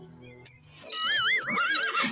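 A horse neighs loudly in a single rising, wavering whinny, preceded by brief squeaky sounds and heard alone without talk.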